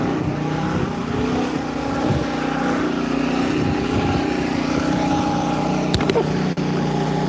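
An engine idling up, giving a steady, loud, droning motor hum that holds throughout, up close with no speech.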